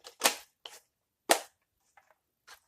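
FN P90 airsoft AEG firing, a few sharp loud single snaps close by with short gaps and fainter clicks between, no speech.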